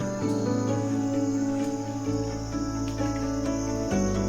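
Insects in a regrowing rainforest chirp in a steady, loud, continuous drone of high pitched trilling, with a low hum underneath and no voices.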